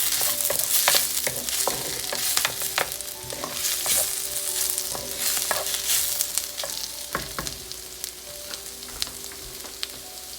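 Onions cook in olive oil in a pan for a meatball and vegetable tagine, sizzling steadily while a utensil scrapes and stirs with sharp intermittent clicks, no voices.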